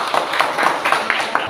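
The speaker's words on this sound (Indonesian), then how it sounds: "tepuk tangan buat kelompok dulu" A classroom group receives applause, a brief burst of clapping with a quick, even rhythm of several hands close by, lasting only a moment.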